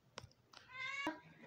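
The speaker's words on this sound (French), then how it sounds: "C'est mon chat." A cat gives a short, faint meow indoors, a single drawn-out tonal cry preceded by a few soft clicks and rustles.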